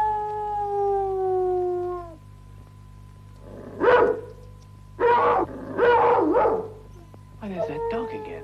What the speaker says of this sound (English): Why, there's that dog again.